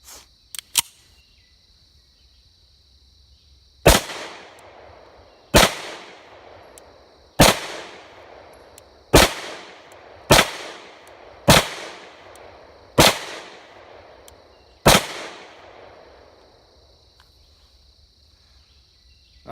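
Nine sharp 7.62x25 pistol shots from a CZ 52 fired at a rubber dummy, spaced irregularly about one to two seconds apart, each loud crack trailing a short echo, with a steady high whine between them.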